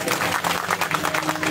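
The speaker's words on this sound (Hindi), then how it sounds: "ताली बजाओ" An audience at a Hindu Bhagwat katha religious discourse in Greater Noida claps together in sustained, dense applause, loud and close, with no pause or voice rising above it.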